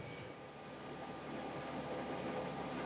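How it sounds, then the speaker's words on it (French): Engine number one of a military tanker aircraft starts up, giving a faint, steady broadband jet roar that swells slightly over a few seconds. No voices. "Prêt pour la mise en route du moteur 1 à bord dégagé."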